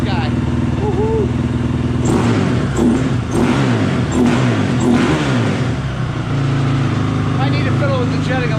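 Honda CRF450R motorcycle engine revving nearby in repeated bursts over a steady idle, with people talking over it.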